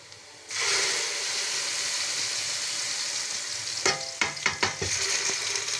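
Onion and spice paste of turmeric, chili, coriander and cumin frying in a home pan for a surma fish curry; a steady close sizzle starts abruptly, with a few sharper crackles and stirring scrapes near the end and no talk.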